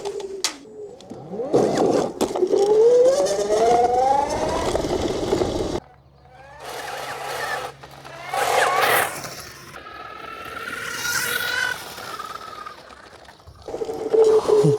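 A homemade mobility scooter built for 50 mph accelerates hard, its electric motor whine rising steeply in pitch, then dropping and surging again in later bursts, loud and close, with a person's voice heard in places.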